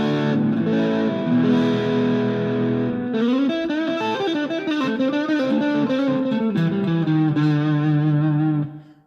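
A Michael Kelly '59 Thinline electric guitar plays a warm, rounded neck-pickup tone, chords and single notes ringing with a touch of effect before fading out at the end.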